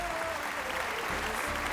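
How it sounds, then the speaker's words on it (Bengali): An audience claps loudly for the judges at a police singing contest, a dense, even burst of applause throughout. "একবার আমাদের জাজেসদের জন্য জোরে হাততালি হয়ে যাক।"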